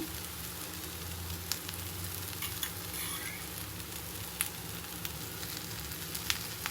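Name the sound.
adai lentil crepe frying on a griddle after flipping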